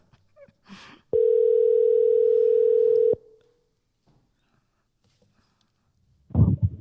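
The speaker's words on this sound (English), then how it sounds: "I'm calling him up" A single steady telephone ringback tone sounds for about two seconds, clear and isolated against near silence, with faint clicks before it and a short burst of noise near the end.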